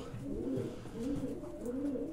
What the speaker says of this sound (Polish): Gołębie zimują